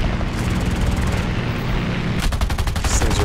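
Machine-gun bursts from a Fiat CR.32 quater biplane in War Thunder air arcade combat, heard as rapid, evenly spaced cracks, loud and close over a steady engine roar, becoming a clearly pulsing stream of shots near the end.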